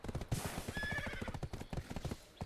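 A horse in a video game whinnies in a rising, drawn-out neigh over steady clip-clopping hooves, fairly close and distinct, with no talk.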